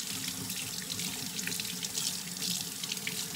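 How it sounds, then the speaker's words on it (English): Tap water running into a sink while a child washes hands, a steady close hiss and splash that continues throughout without talk. "Ariel, hands on the water"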